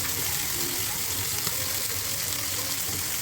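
Fish frying on a tawa griddle, a steady close broadband sizzle of hot oil holding unbroken throughout with faint low kitchen rumble beneath.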